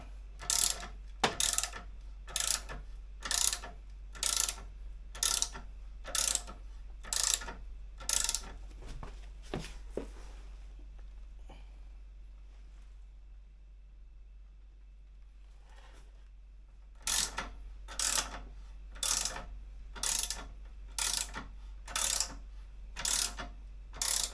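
The ratchet mechanism of a lift raising an Indian Challenger motorcycle clicks in a rapid, evenly spaced series of sharp clacks, pauses for several seconds in near quiet, then resumes the same steady clicking.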